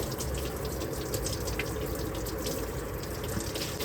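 Coolant drains from the radiator of a 1964 Ford F100 into a large pan, a steady close splashing trickle of liquid running without pause.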